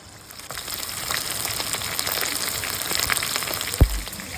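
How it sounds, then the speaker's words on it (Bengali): Chicken pieces fry in a pan for biryani, a steady hiss and crackle of hot oil with scattered pops, then a single sharp clank near the end. "চিকেন গুলোকে বেশ লাল লাল করে ভেজে নেব"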